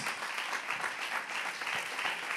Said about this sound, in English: Come on, y'all, let's clap our hands.